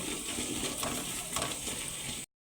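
Chopped potato and cauliflower tipped into a pan of spices for khichuri, giving a dense, continuous close sizzle with light stirring scrapes for about two seconds before cutting off abruptly.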